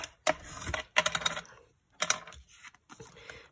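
Paper for a small junk journal being folded and bone-scored gives crisp, close creasing and tapping in short bursts, with brief pauses between strokes.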